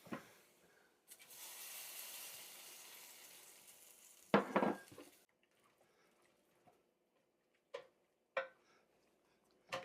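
Bacon frying in a pot for chili, a soft steady sizzle that rises and holds, then gives way to quiet with a few sharp clattering stirs and pops.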